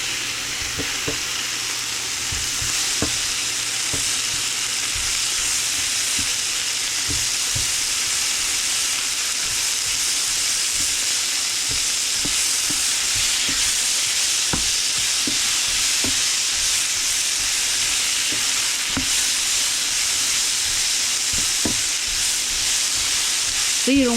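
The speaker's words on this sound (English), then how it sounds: "Mushroom and shrimp can cook really fast, so you can put them in together." Shrimp with shiitake and oyster mushrooms stir-frying in a skillet, a steady loud sizzle and hiss with occasional crackles and spatula scrapes, close up and without talk.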